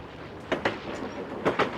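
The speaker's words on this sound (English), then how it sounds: "another up express train rolling in" Rhythmic clickety-clack of a two-cab express commuter train's wheels passing over rail joints in Toronto, paired clicks repeating at steady intervals over a low rumble.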